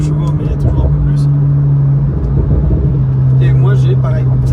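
Loud, close McLaren 720 supercar engine humming with a steady tonal drone and slight pitch shifts under acceleration, while people talk over it.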